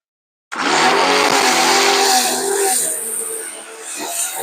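A ZAZ 1102 Tavria car with a carburettor engine starts up abruptly and pulls away nearby, a loud engine roar with some tyre noise that eases slightly, then swells again.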